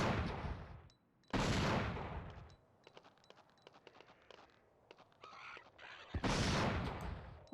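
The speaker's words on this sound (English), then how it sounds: "This is where that anti-tank rifle is so OP." Anti-tank rifle gunfire in the video game Dino Crisis: two loud, heavy blasts several seconds apart, each with a long booming tail, separated by quieter game clatter and small impacts.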